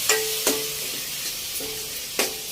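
Ginger garlic paste sizzles in a pan while being stirred, with a soft steady frying hiss broken by a few sharp scraping strokes of the spoon, close and fairly quiet.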